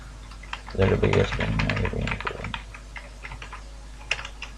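Computer keyboard typing while entering a password into an HTML form, quick light key clicks scattered through the clip, partly under someone speaking nearby.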